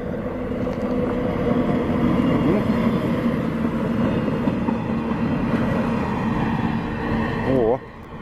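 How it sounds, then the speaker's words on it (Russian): A small four-car diesel railcar rumbles past near Kaliningrad with a steady engine drone and rolling wheel noise, loud and close throughout, with a voice speaking under it. "Вот это идет маленький трамвайчик, дизель-трамвайчик"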